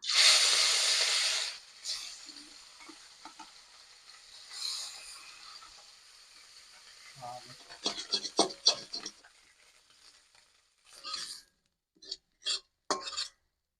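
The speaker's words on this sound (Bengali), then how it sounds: "তেল গরম হয়ে গেছে মাছটা দিয়ে দেবো" Piyali fish goes into hot oil in a wok with a loud burst of sizzling hiss that fades over a couple of seconds, followed by softer frying and scattered utensil clatter and scraping.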